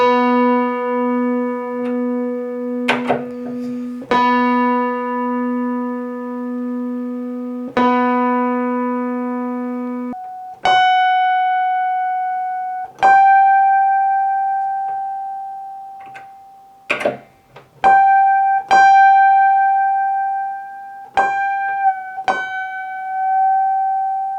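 Single sustained notes on a Yamaha CP70M electric grand piano struck one at a time during tuning, each ringing and slowly fading, with pauses between strikes as the pitch is adjusted.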